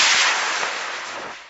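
A model rocket motor fires at launch: a loud, rushing hiss-roar starts abruptly and burns steadily, fading slightly over a second and a half with nothing else heard.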